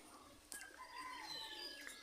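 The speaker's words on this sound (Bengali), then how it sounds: "তো কবুতরগুলো খাবার খাওয়ার জন্য দাঁড়িয়ে আছে, খাবার দিব" Pigeons waiting for and eating feed make soft calls and chirps that come and go over a faint background hum, with a brief sharp click near the middle; no talking.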